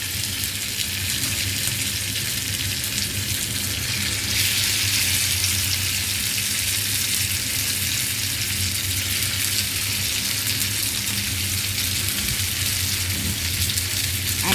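Cooked beef tripe frying with onions in a pan, a loud, steady sizzle that holds evenly from start to finish with no voices over it.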